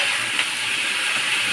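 Potatoes and onions being sautéed in a pan with salt, giving a steady, close, even sizzle with a soft hiss throughout and no speech.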